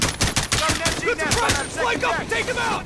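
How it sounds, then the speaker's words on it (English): A machine gun nest fires in a Modern Warfare campaign mission: rapid cracking bursts of automatic gunfire, loud and close, with a distorted voice speaking over the shots. "there's going to be an MG nest shooting at you"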